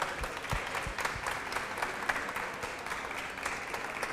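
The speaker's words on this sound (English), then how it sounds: "I think we can applaud them" An audience at a neuroscience research and art event applauds three speakers, a dense, steady wash of many hands clapping at moderate volume throughout, with no voices on top.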